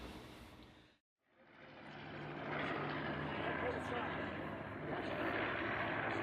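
A vintage aircraft at an airshow drones loudly overhead, its engine roar rising after a brief silent gap and holding steady and broad as it passes close.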